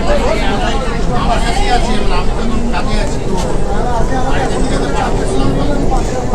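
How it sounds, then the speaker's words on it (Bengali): Indian metro train running fast through the tunnel beneath the Ganges, a loud steady rumble and rattle of wheels and carriage heard from inside, with passengers chattering in the background. "খুব স্পিডেই কিন্তু চলছে খুব স্পিডে চলছে মেট্রো"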